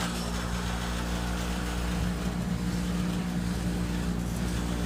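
Carrier furnace inducer fan running loudly with a rattle through the unit, a steady low droning hum with strong harmonics, constant and close, no talking.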